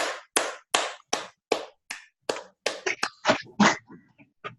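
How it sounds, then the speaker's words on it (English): Ten sharp hand claps at a steady, even pace, close and crisp, followed by a few looser, more scattered claps and light slaps as a group finishes. "Now we're going to clap 10 times"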